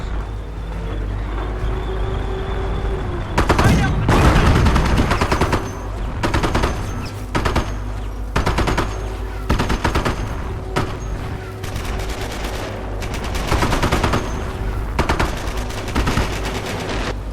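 Sustained bursts of machine-gun fire and gunshots in the World War II strategy game Company of Heroes, loud and dense, rattling in repeated volleys over a constant low rumble of battle.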